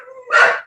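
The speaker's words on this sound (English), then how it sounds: "Sorry about the barking dogs." Barking from dogs in the background during a criminal justice meeting: one short, loud bark burst rises after a few softer yips and fades within a second.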